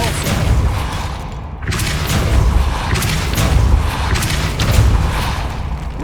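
Depulso, a force-pushing spell in Hogwarts Legacy, is cast inside a tomb, with a string of loud thumping blasts and percussive booms, one sharp impact partway through, and rolling rumble between them.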